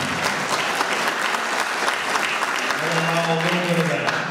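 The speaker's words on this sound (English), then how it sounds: "Now you can applaud." Applause from an audience at a candidates' forum for first selectman, steady clapping filling the room for several seconds while a voice speaks over it near the end.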